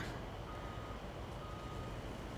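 Truck reversing alarm in the farming game Farming Simulator 19, a steady electronic warning sound playing continuously and fairly loud over engine hum, with no speech.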